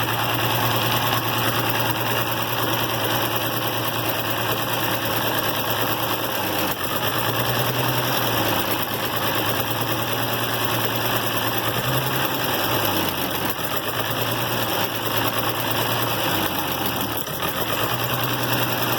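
An IH Farmall 706 tractor engine runs loud and close with a newly adjusted carburetor, holding a steady drone while its pitch dips and recovers several times as the throttle shifts.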